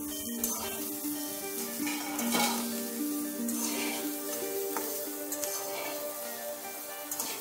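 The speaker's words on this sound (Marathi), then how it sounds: "आता ती सुद्धा या तेलामध्ये छान परतून घेऊयात आपण." Chopped green bell pepper sautés in hot oil in a pan, a soft, steady sizzle and hiss running throughout at moderate level, with faint stirring and a faint tonal hum in the background.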